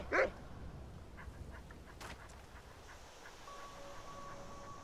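A dog in the Skyrim video game gives a single quick, quiet bark at the very start, followed by faint ambient game sounds and a low background hum.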